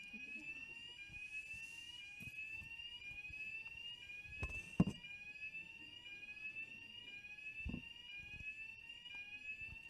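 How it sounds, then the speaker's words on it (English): A building fire alarm sounds continuously, a steady high electronic tone with rapid repeating pulses, filling an indoor hall at moderate level, with occasional thumps and faint room noise. "We just have to wait out the fire alarm."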